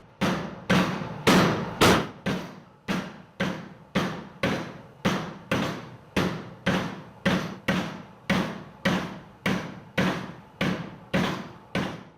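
Steady hammer blows on a steel spade blade, about two per second, loud and close, each strike ringing briefly before the next with no talking.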